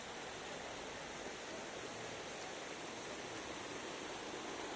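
Water pours steadily down Anantagiri waterfall in Araku, a dense, continuous rushing roar that stays even and full throughout, close by with no voices.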